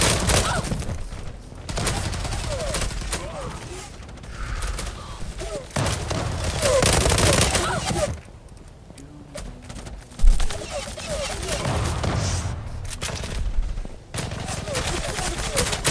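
M4 rifles firing in an online shooter game, rapid bursts of gunfire repeating in waves with short pauses, loud and close, while players talk over the shots.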